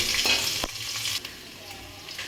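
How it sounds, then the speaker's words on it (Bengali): Garlic sizzles and crackles in hot oil, a steady close frying hiss with a few stirring scrapes. "রসুনটা একটু লাল করে ভাজা হবে"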